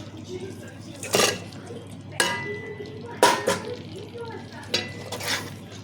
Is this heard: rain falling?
no